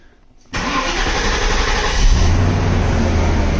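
A Mercedes 126 560 SEL V8 starts from silence with an abrupt crank and catch, then settles into a steady, loud idle close by, with no voices over it.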